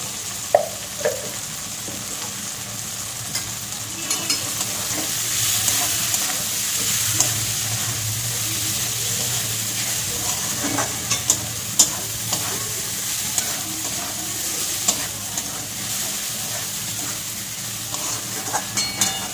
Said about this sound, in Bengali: আর একটু ভাজা হবে। উচ্ছে বেগুন পেঁয়াজ ভাজা হয়ে গেছে